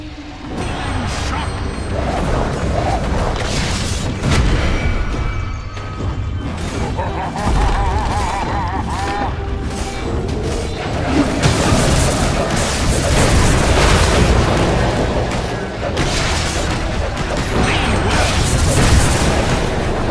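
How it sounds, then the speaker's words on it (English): Dota 2 match audio as Radiant's bottom tower comes under attack, with dense, loud, continuous booms, crashes and rapid impact hits layered throughout, the barrage swelling louder toward the end. "Radiant's bottom tower is under attack."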